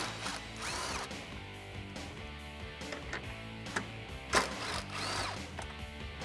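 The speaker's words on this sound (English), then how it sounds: "Grab that 10mm socket and get it removed." Ratchet wrench with a 10mm socket turning out headlight mounting bolts on a 2018-2020 Ford F-150, a run of quick close clicks with a louder snap near the end over steady background noise.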